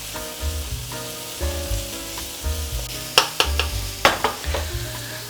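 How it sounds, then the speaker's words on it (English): Onion fries soft in a pan for chicken cutlets, a steady near sizzle broken by repeated sharp clinks and scrapes of a spatula stirring, with no voices. "now we need to fry this onion until it turns soft and slightly brown"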